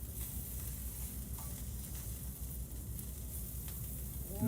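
Wagyu steak bites sear in a hot pan with a dense, steady sizzle and crackle that holds evenly throughout, close up and fairly loud, with no voices over it.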